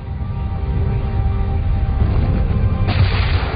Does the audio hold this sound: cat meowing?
no